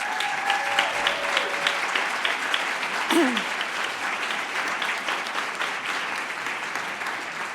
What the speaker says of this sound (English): So I'd like you to give them all a round of applause before we vote.